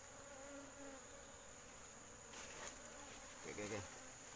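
A steady hum of Asian honey bees (Apis cerana) buzzing up close during hive collection, continuous and fairly faint, with a few soft handling noises near the end.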